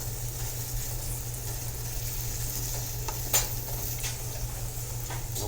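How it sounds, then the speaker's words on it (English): Vegetarian taco meat sauce simmers and sizzles steadily in a pot, reducing with a constant low bubbling hiss and one brief utensil clink partway through. "We're just going to let this just keep cooking down"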